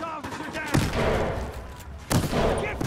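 Gunfire in the video game Battlefield Hardline, loud bursts of shots with two sharp louder blasts amid continuous rattling fire, close and dense.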